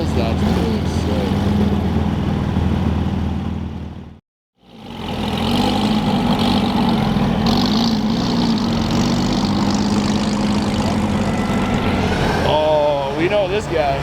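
A Lamborghini SVJ with a Gintani F1 exhaust revs loudly at a car meet, its roar cutting out for a moment, then returning as a sustained, throaty blare with brief voices near the end.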